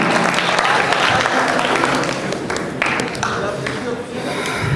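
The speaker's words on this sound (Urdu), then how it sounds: "آپ سب کی بھرپور تالیوں میں" A crowd at a Sufi mushaira during the Lahore Sufi Festival breaks into full, sustained applause, loud and dense with scattered sharp claps throughout.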